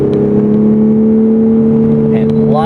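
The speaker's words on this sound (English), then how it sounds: "Nice engine growl" A VW Golf R with all-wheel drive gives a loud, steady engine drone while driving on a slightly wet road, holding a constant pitch with a slight rise in revs near the end.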